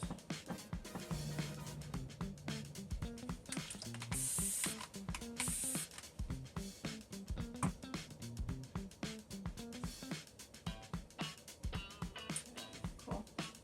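Clear coat is sprayed onto a thrifted picture in short repeated bursts, close and fairly quiet, with faint handling clicks between the hisses.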